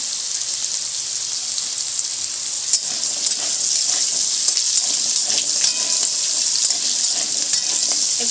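Potatoes deep frying in hot oil make a bright, continuous sizzle with fine crackle and occasional stirring. It is loud, close and unbroken, with no talking.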